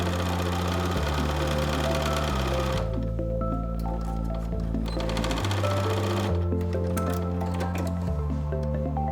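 A sewing machine stitches a seam in a fabric face mask with a 1/2 inch seam allowance, running in a loud steady mechanical whir with shifting pitch and brief pauses between bursts, close and alone.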